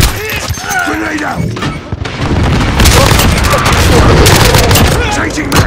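A grenade goes off amid Call of Duty: Modern Warfare multiplayer combat, a loud rumbling boom that swells and holds within dense gunfire, with a voice speaking over the chaos.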